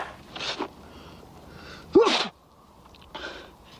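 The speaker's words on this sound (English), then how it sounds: "Makes me sneeze." A single sharp sneeze bursts out close by, with a quick intake of breath just before it and faint breathy sounds around it.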